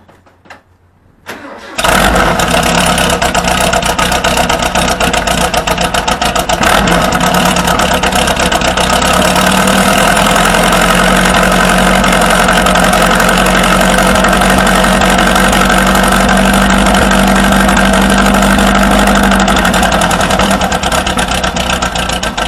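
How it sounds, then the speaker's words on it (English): A car engine cold-starts on a mild 68-degree Florida morning, cranking briefly before catching, then settles into a loud, steady idle that holds throughout with a slight knock, heard up close and alone. "now we'll set up and let you guys hear our cold start"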